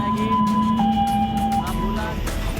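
Ambulance siren arriving at a refinery fire, its wailing tone shifting pitch in steps over traffic and crowd noise, fairly close and steady, with people talking in the background.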